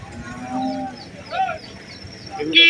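Cattle moo across a noisy livestock market in Valliyoor, Tirunelveli, with several low drawn-out calls, then a louder, closer bellow near the end over a constant crowd murmur.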